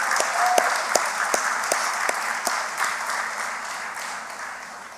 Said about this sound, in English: let's give St. Lucia and the Eastern Caribbean Supreme Court a round of applause